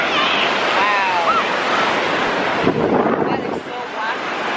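Ocean waves wash in at a beach in a steady broadband roar, with wind buffeting the microphone and voices of friends talking and exclaiming over the surf.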